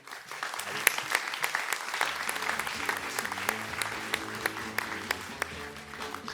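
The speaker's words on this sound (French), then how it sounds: "On applaudit très fort." An audience applauds at the grand opening of a festival, with sustained clapping under a backing of low music and a few sharp, louder claps standing out near the front.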